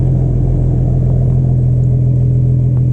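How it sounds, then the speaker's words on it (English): A BMW with a stock exhaust and one catalytic converter on the downpipe idles steadily up close with a deep, even exhaust rumble, loud and continuous, with no talking. "Let's go back and hear the exhaust note on it, though. This is just idle"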